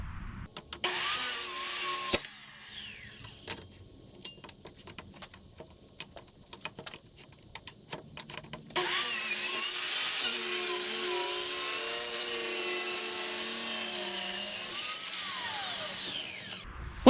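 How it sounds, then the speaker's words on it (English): A track saw rips through a full 4x4 sheet of scrap plywood, its loud motor whine and cutting roar running steadily for several seconds after a stretch of clicks and handling noises. "So I'm going to use the track saw here, see if that works any better."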